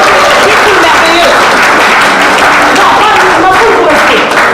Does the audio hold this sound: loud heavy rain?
no